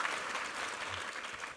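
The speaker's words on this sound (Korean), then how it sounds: "한번 수고하신 1부 성가대 한번 격려 박수 부탁합니다." A church congregation at a Sunday worship service applauds the choir with dense, steady clapping for a couple of seconds, heard alone without talk.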